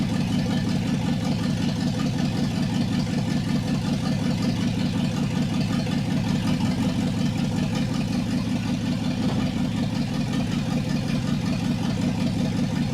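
A 1959 Ford F100 engine running steadily at idle, a continuous low rumbling throb that stays even and close throughout with no speech over it.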